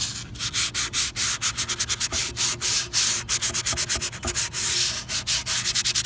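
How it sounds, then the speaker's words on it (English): Hand sanding of a wooden three-tier farmhouse table with sandpaper of different grits: steady, rhythmic back-and-forth scratchy strokes, close and fairly loud, continuing throughout with no voices. "I took a couple different grit sandpaper"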